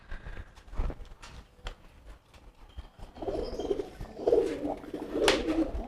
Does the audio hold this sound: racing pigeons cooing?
yes